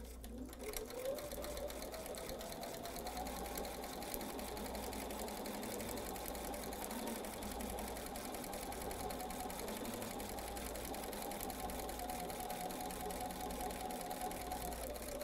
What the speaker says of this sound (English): So let's go to the sewing machine and we'll do that right now.